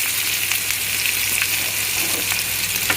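Sliced onions fry in a pan of hot oil for ragi uppittu, giving a dense, steady sizzle with faint stirring scrapes throughout.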